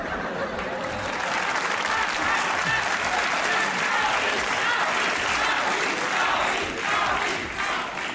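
A studio audience at a comedy talk show claps steadily and loudly for about eight seconds, with a few crowd voices mixed into the applause.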